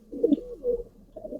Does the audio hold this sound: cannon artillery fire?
no